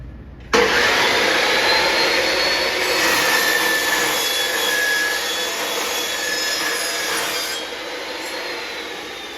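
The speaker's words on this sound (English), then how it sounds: "So here's the lower RPM saw with the lower tooth count blade." A lower-RPM saw fitted with a low tooth count blade cuts through aluminum, starting abruptly and holding a steady, close, loud whine with high-pitched ringing tones for most of the cut.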